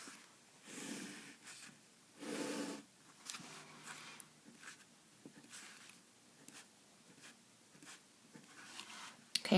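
Pen or pencil scratching on paper while sketching a graph, faint intermittent strokes in short bursts, close and quiet.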